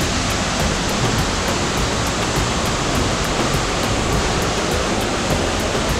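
Waterfall cascades on the Rulles river in Belgium pour in a steady, dense roar of rushing water that stays constant and close, with no voices.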